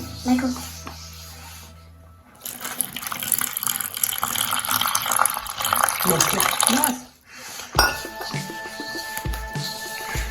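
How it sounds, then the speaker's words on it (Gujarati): After a voice speaks briefly, water pours steadily for several seconds into flour, pauses, then soft wet squelching and handling sounds of dough being kneaded follow nearby. "તો હવે આપણે પાણી એડ કરતા જઈશું અને લોટ બાંધતા જઈશું"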